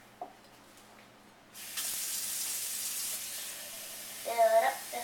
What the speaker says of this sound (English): We have 2 glasses, and we're gonna fill them up with water.